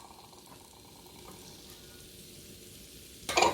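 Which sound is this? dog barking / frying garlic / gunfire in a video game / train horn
frying garlic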